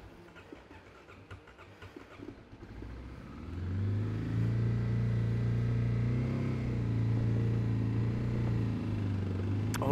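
A carbureted Kawasaki KLX dirt bike engine running on choke in cold weather, idling roughly at first, then rising to a loud, steady, fast idle that holds to the end. No one speaks.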